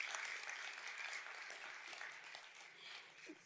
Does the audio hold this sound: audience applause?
yes